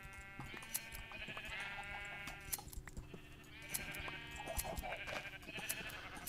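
Sheep in the video game Minecraft bleat several times in a row, each a quavering, nasal call, quiet and overlapping over a faint background.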